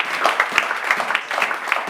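A church congregation breaks into applause, a dense, steady patter of many hands clapping together with faint voices mixed in.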